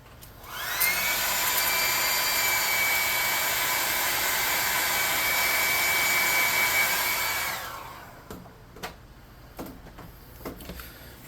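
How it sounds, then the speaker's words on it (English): A hair dryer whirs loudly and steadily for several seconds while drying paint on a tabletop-game kraken model, then shuts off, leaving a few quiet clicks and light handling noises. "I'm going to hit these eyes with the hairdryer"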